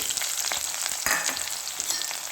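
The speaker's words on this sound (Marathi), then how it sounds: "तेल गरम झाल्यानंतर आपल्याला टाकायची आहे मोहरी, अर्धा चमचा मोहरी, अर्धा चमचा जिरे, उभा चिरलेला कांदा" Mustard seeds, cumin and vertically sliced onion crackle and sizzle in hot oil for Vidarbha-style zunka, a steady close hiss with no voices.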